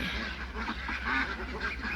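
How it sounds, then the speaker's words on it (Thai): A flock of ducks quacks steadily in a fenced farm pen, with overlapping nasal calls from many birds at moderate distance over a constant low background hum. "เป็นเป็ดพันเป็ดอีเหลียงนะคะ"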